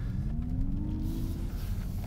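A Mazda MX-30 electric car's artificial driving sound, a steady synthetic hum with a slowly rising tone, drones while moving, smooth and continuous over low road rumble.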